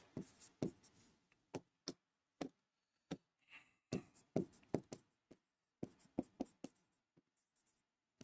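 Sharp, separate taps and scratchy strokes of a teacher writing on a board during a biology lesson on structural genes, coming in quick bursts with short pauses, fairly quiet and close, with no talking.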